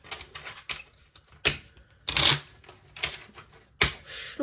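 Druid Wisdom oracle cards being shuffled, a few separate crisp riffling bursts with short pauses between them, close and clear with no voices.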